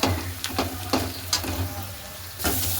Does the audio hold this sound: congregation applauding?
no